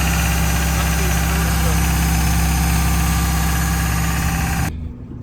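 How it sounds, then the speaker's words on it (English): A vehicle engine that was troubled by frozen fuel idles while warming up in the cold, a loud, steady, close rumble with a constant hum, then it cuts off abruptly near the end. "we've got it started, engine's running. Give it a good warm up"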